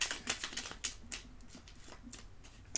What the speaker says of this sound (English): I'm gonna shuffle some cards,